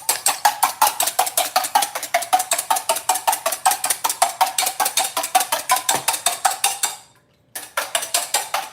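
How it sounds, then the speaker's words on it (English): A whisk beats a single egg in a bowl in fast, even strokes that clink loudly and closely, stopping for a moment before starting again. "let's make sure we whisk this egg quickly"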